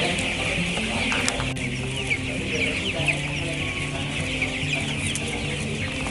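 Broiler chickens raised on a vocational agricultural school farm cluck and chatter in a busy, continuous chorus, with scattered nearer calls over a dense flock murmur and no voices.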